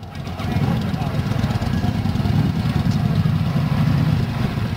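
A Yamaha Virago 535 motorcycle engine runs with a steady low rumble at close range, a constant throbbing drone that continues for the whole stretch under faint background voices.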